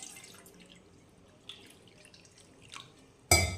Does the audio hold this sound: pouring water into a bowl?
yes